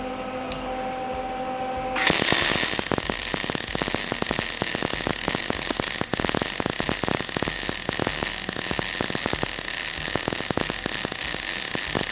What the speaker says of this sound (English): we'll just take the plasma and we'll plasma this here and here, and then we'll be able to weld it on.